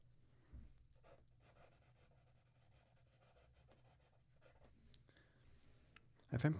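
Pencil sketches on paper in a steady, faint scratching that runs throughout, close up, with a soft thump near the end.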